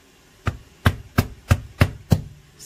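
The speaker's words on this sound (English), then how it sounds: "I'm just gonna beat the ginger" Six sharp, evenly spaced thumps of washed ginger root being beaten for a Jamaican sorrel drink, close and loud with brief silences between blows.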